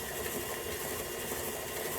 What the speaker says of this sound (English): we are now going to start the stand-up mixer and slowly go up